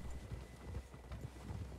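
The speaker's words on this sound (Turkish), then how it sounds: "At kişneme" Horse hooves clip-clopping at a steady trot in the Red Dead Redemption 2 video game, a continuous close rhythmic patter with no clear neigh, over a low rumbling background.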